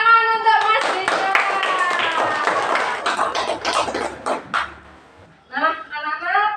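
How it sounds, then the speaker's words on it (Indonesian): Children clapping their hands in a school classroom, a burst of quick, close claps lasting several seconds amid voices, then fading as someone speaks. "tepuk tangan untuk Mas Dirga"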